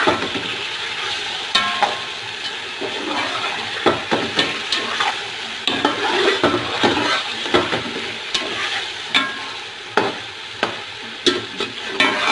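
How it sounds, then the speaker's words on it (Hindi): Ginger garlic paste fries in a pot for chicken pulao, a crackling sizzle broken by repeated scraping stirs and clicks of a spoon against the pot, close and uneven in rhythm. "यहाँ पे अदरक लहसुन का पेस्ट डाल के फ्राई करते हुए 5 मिनट गुजर गए हैं"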